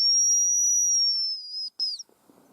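Hazel grouse decoy whistle blown in a forest, a thin high sustained tone lasting over a second, then a short second whistle note, followed by quiet rustling.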